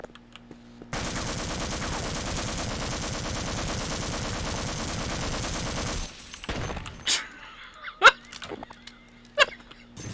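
Assault rifle fire in Half-Life: Opposing Force rattles as one sustained rapid automatic burst for about five seconds, then cuts off, followed by a few scattered sharp bangs and clicks.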